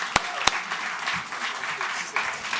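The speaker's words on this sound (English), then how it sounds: "Give him a small applause." Audience applause for a speaker at a talk on building a high-tech, narratively rich open-world game, with a couple of loud sharp claps at the start and then a steady, moderate patter of clapping.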